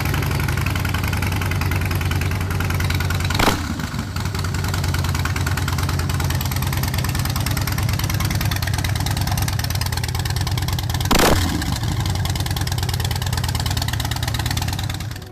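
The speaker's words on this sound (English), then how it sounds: "has an excellent V-twin sound" V-twin motorcycle engine running at a steady, lumpy idle with a pulsing beat, plus two brief sharp revs or clicks, close and loud.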